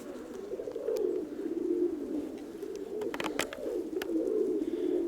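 Pigeons coo steadily inside a dovecote, a soft low rolling murmur that rises and falls without pause, with a few faint clicks and rustles scattered through it.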